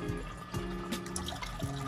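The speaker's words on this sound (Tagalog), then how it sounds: "intayin lang natin ng konti, baka sakaling gumanda pa yung tulo ng tubig" Water trickles and drips steadily down a DIY backyard spillway beside a filter box, a soft continuous patter with a few louder splashes, fairly close and with no voices.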